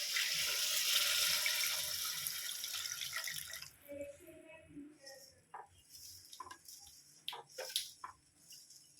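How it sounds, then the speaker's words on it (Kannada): Water poured into a pan for making upma at home, a steady splashing stream at first that breaks into irregular drips and trickles, with a voice speaking over it. "ನೋಡಿ ಫ್ರೆಂಡ್ಸ್, ನೀರು ಹಾಕ್ತಿದ್ದೀವಿ"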